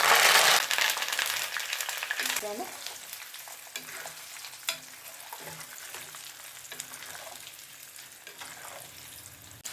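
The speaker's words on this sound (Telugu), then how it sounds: "వేసి వేగనిద్దాం. ఇవి వేగిన తర్వాత కొద్దిగా కరివేపాకు" Spices, garlic and curry leaves crackle and sizzle in hot oil for a tempering, loud at first then settling into a steady fry with occasional pops and stirring clinks.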